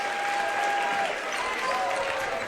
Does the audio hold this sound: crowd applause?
yes